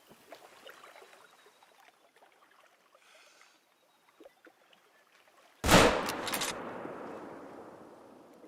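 Single sharp hunting rifle shot in The Hunter: Call of the Wild while stalking a pig, a loud close crack after quiet ambient forest sounds, trailing off into a long rolling echo.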